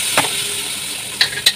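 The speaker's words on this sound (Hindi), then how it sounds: "इसमें डालेंगे टमाटर।" Chopped tomatoes hit a hot pan with green chillies and cumin, setting off a loud, close, steady sizzling hiss punctuated by a few sharp spattering pops, with no one speaking.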